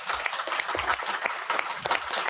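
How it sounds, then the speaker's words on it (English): An audience at an organized event breaks into a round of applause. Sharp, distinct hand claps overlap into a lively, uneven patter that stays close and fairly loud. "let's give a round of applause"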